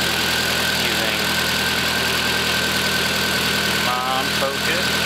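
Honda S2000 engine fitted with individual throttle bodies idling steadily after a coolant bleed, a constant close drone with a brief rattle near the end, and a voice talking over it.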